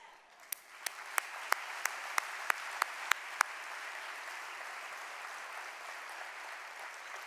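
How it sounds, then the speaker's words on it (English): A large audience at an event applauds in a steady, even wash of clapping heard from a distance, with a run of crisp individual claps near the start, fairly faint overall. "Let's show them our appreciation, not only with a round of applause"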